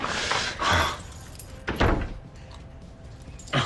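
A bunch of keys jangles in a few short metallic bursts, close and fairly loud, with a door-like thunk among them and quieter gaps between.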